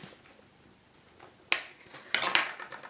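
A knife slices the top off a pepper on a work surface for a Halloween lantern, with a sharp cutting sound at about 1.5 seconds and a louder chop and scrape a little after 2 seconds, following a quiet start.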